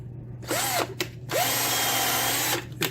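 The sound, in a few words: power drill tapping threads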